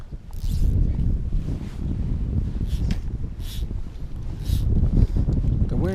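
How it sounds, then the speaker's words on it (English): Wind gusts across a Colorado lake and buffets the microphone with a low, rumbling roar. Faint voices are heard underneath. "The wind is blowing directly into our face."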